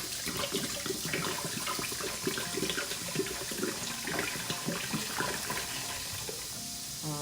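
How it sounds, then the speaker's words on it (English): White wine poured from a full bottle into a pot in a home kitchen, a steady gurgling stream of liquid running for several seconds, fairly close and even, with no talk over it. "I'm going to start out by using 1 bottle of white wine, and that goes in there."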